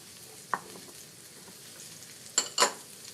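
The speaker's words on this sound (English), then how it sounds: "We're going to add 1 clove of finely minced garlic." A finely minced clove of garlic sizzles softly in a pan, a faint, low hiss broken by a few brief sharp bursts of spitting or utensil clatter near the start and end.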